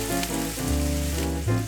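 Red wine hits a hot pan holding steak, mushrooms and sauce, giving a loud, steady sizzle and hiss close by with a tonal hum underneath and no talking.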